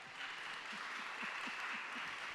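Audience applause at a live literary conversation event, a broad steady wash of clapping from a seated crowd, moderately faint and even throughout with no voices over it.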